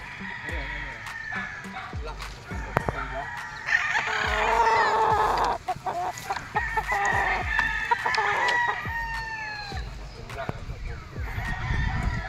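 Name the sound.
rooster crowing, pure Sweater gamefowl at game farm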